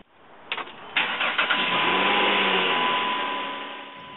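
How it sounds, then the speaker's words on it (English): A car engine cranks with a few sharp starter bursts, then catches and settles into a steady idle that fades slightly, heard close with no talking. "The first step is to start your car."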